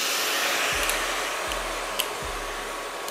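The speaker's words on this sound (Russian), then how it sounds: "Хорошо фламмируем." Shrimp pasta flambéed in a stainless, non-nonstick pan, a steady loud rushing roar of flame with a few soft low thumps and a faint clink or two, no talk.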